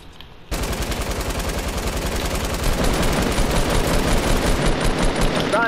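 Sustained rapid automatic gunfire in a battle royale video game blasts continuously at a steady fast rhythm, loud and dense, with faint player talk underneath.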